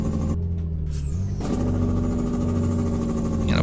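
A heavy truck in Euro Truck Simulator 2 downshifting into Jake braking: a deep, steady diesel drone that suddenly swells into a loud, rough, rapid engine-brake rumble, close and continuous.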